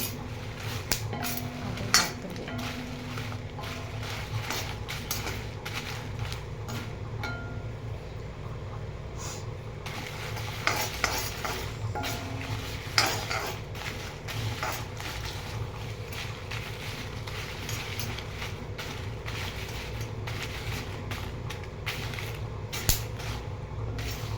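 Red chilies dry-roasting in a pan for idli powder, with steady, close scraping and rattling of a spatula against the metal, continuing evenly throughout without talk.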